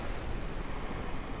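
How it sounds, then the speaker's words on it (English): Spacecraft splashing down into ocean water in Kerbal Space Program, a steady broadband rush of surf-like water and wind noise filling the short moment without a break, with no voices. "Well, we splashed down."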